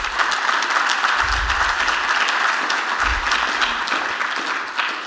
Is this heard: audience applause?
yes